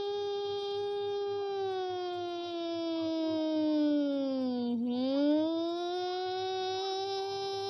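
A voice wails up and down in a long, loud, continuous siren imitation, dipping in pitch and rising again.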